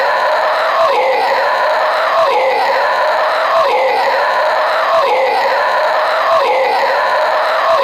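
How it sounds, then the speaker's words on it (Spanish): A horror-style scream sound effect loops as repeated, loud, sustained shrieks rising and falling at a steady rhythm roughly every second and a half, dense and harsh throughout. "Todos empezamos a gritar, queríamos escapar pero no podíamos."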